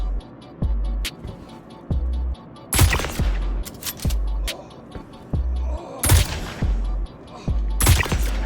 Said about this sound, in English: Technically a 2-tap since it's firing 2 bullets at the same time with the burst mode activated.